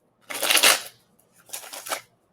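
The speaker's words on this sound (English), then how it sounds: "Let me shuffle real good." Two quick bursts of cards being shuffled, crisp riffling up close with a short pause between them.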